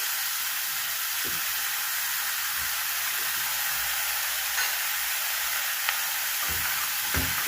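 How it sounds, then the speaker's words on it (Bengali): Large cleaned prawns fry gently in a hot pan, giving a steady bright sizzle and hiss with a few small pops and stirring knocks, close and continuous, no talking. "ভাজা করবো হালকা করে, আঁচটা বাড়ানো আছে, একটু কমিয়ে দেবো।"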